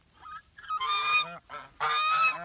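Lucy the goose gives several loud, close honks in two long harsh bursts with a shorter call between them, alone with no talk.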